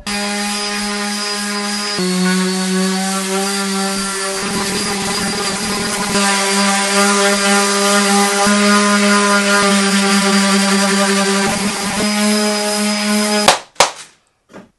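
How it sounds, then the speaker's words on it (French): A power sander works on a re-resined Axis hydrofoil mast: a loud, steady, high-pitched whine with a strong motor hum runs continuously, shifts pitch slightly under load, then cuts off abruptly near the end with a couple of clunks. "Ponçage du mât Axis, hein."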